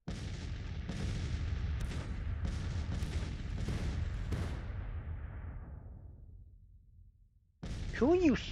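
Cannon bombardment in a Civil War strategy game, a rapid volley of heavy booms in quick succession that fades into a rumbling decay, then silence broken by a short whooshing sound near the end.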